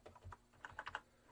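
Typing on a light, cheap computer keyboard with quiet, non-clicky keys and highlighted WASD keys: a quick run of soft, close keystrokes with no talking.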